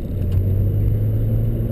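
A strong car engine idles in gear as the clutch is slowly let out, a steady low rumble with a faint whir that creeps forward without revving, continuous and close throughout.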